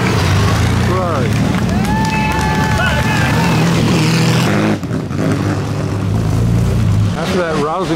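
A classic Ferrari racing past at the Mille Miglia road event, a loud, sustained engine roar with rising whine, mixed with crowd babble and chatter nearby.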